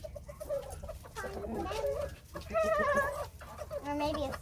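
Several chickens cluck in a farm pen as they come out to feed, with a steady run of overlapping calls at moderate distance and some background noise.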